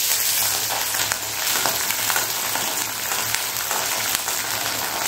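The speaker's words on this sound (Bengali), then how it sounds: "রসুনের সঙ্গে কাঁচা লঙ্কাগুলো আমি একটু ভালো করে ভেজে নিয়েছি" Garlic and green chilies fry in hot oil in a pan, a continuous, dense sizzle and crackle heard up close and steady throughout, with no talking.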